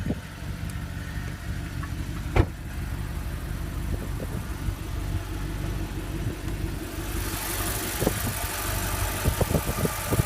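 A 2009 Audi R8 with a rear-mounted 4.2 liter V8 FSI engine idles steadily with a low, even rumble, one sharp knock near the start and a few small clicks and a brighter hiss toward the end.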